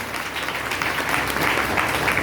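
A Pentecostal church congregation claps in dense, continuous applause at a service, steady and fairly close throughout with no pauses.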